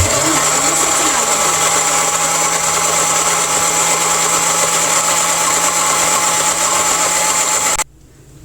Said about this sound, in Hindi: 2 मिनट के लिए मैंने इसे ब्लेंडर को चला के तो इस मिक्सचर को रेडी कर लिए हैं।